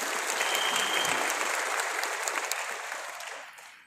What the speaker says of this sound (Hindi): तो एक बार जोरदार तालियां हो सकती है विनिंग टीम के लिए।